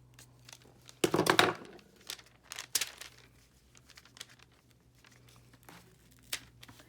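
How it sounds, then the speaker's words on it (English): Scissors snip and crinkle through the edges of a washi tape tab on a journaling Bible page, a dense burst of cutting sounds near the start followed by lighter, scattered snips and rustles, close and fairly quiet. "And then I'll just trim off the edges."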